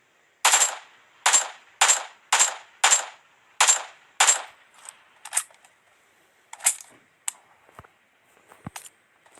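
Gunfire in PUBG Mobile: a run of sharp, evenly spaced shots crack close by, followed by fainter, scattered shots further off.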